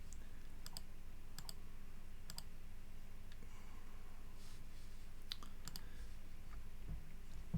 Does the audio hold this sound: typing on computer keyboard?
yes